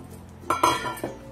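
Metal lid set onto a pot of soaked whole masoor lentils cooking in water, a few close clanks and clinks in quick succession, then a softer knock, with no talk.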